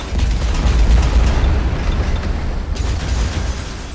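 Building demolition in the Transport Fever city-building game: a loud, sustained rumbling explosion with a heavy low boom and crumbling debris that rolls on for several seconds before easing off.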